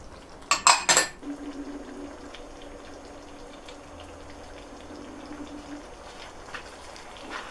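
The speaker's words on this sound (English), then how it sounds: "Just going to mix all these in, get these peas cooked." Frozen peas are stirred into lamb keema curry in a cast iron pot, opening with a few sharp metal clanks of utensil on pot, then a quiet, faint scraping and bubbling under a low steady hum.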